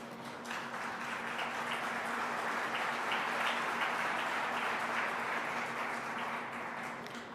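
Sustained applause from a crowd at a public event rolls on at an even level for several seconds, dense and moderately distant, without a break or any voice standing out.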